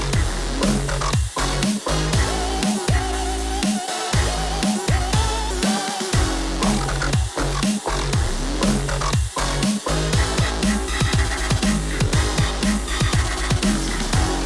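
Electronic music drop playing loud and dense: pounding kick drum, sustained synth chords and bass, continuous energetic groove for the whole stretch with no talking.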